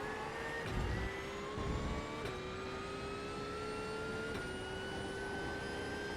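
Porsche GT3 race car engine in the iRacing sim at Suzuka, a steady high-pitched drone rising gradually in pitch as it accelerates out of a corner, with brief low thumps and a couple of short gear-shift dips, alone without talk.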